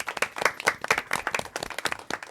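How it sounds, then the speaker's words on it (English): A small group at a Pitt County Board of Commissioners meeting claps in a room. The individual hand claps are close and distinct, quick and uneven, with no voices. "Let's do give them a hand."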